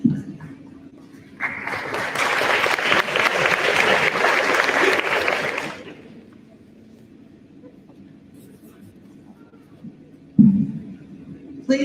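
At a senior awards ceremony, an audience gives a loud, sustained round of applause lasting about four seconds as Presidential Education Award recipients are recognized, then the room falls quiet apart from faint murmurs and a brief thump near the end.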